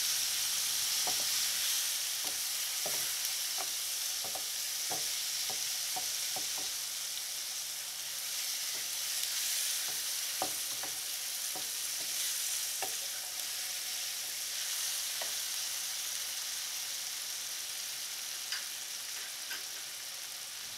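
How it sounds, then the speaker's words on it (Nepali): Tomatoes fry in a pan for vegan cauliflower sabzi with turmeric, giving a steady loud sizzle throughout, while a spoon stirs with scattered light scrapes and taps, close up and without talk. "गोलबेडा हालेर एकछिन चलाउँछु यसलाई"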